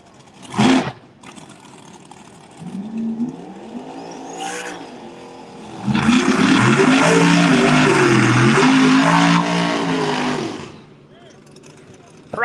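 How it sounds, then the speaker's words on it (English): A turbocharged Nova and a turbocharged Camaro drag race at a motorsports park, engines revving and building into a loud, sustained roar of full-throttle acceleration that holds for several seconds, then fades as the cars pull away. "turbocharged Nova far lane. Turbocharged Camaro near lane."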